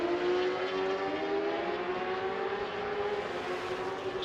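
A racing motorcycle at the Idemitsu FIM Asia Road Racing Championship at Mobility Resort Motegi brakes downhill into turn 5, its engine a loud, steady high-pitched whine that holds a sustained tone throughout with no voices.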